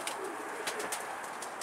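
Pigeon cooing at a Turkish bird keeper's loft, soft repeated coos with fluttery chirps over a steady background hiss.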